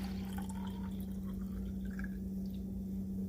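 Water poured from a drinking cup into a pot of tomato soup makes a soft, trickling splash over a steady low electrical hum in a home kitchen.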